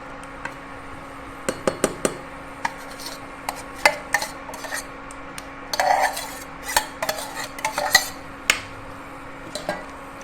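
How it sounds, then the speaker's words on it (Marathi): Boiled chickpeas added to roasted masala in a pot and stirred, with irregular metal spoon clinks and scrapes against the pan, close and clear, no talking. "याचा मसाला आपला भाजून झाला तर ह्यात हे आपण छोले उकडलेले छोले घालायचे"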